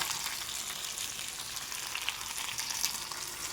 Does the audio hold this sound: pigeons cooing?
no